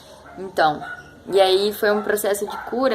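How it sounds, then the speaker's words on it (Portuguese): Several neighbourhood dogs bark in short, loud bursts close by, overlapping a woman's steady speech throughout. "E perdão pelos cachorros, nossa, na vizinhança tem muito cachorro."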